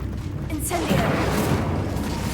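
A fire spell from Hogwarts Legacy erupts into a deep, sustained rumbling roar that fills most of the moment, with someone talking over it.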